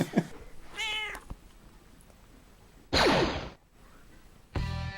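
A cat meows several times in short, separate calls, close by, with quiet pauses between them.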